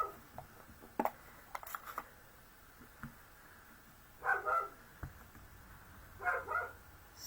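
A dog barks at something outside, two short bursts of muffled barking heard from a distance among faint scattered clicks and rustles.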